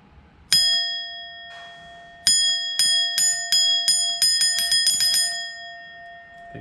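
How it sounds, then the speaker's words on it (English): A bell feedback device wired into a virtual pinball machine rings loud and close, one strike followed by a string of rapid repeated dings that ring on with sustained metallic tones. "And hook up our bell here."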